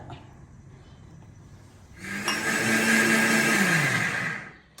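Quiet room noise, then a mixer grinder whirs loudly for about three seconds grinding soaked green gram with water before its pitch drops as it winds down.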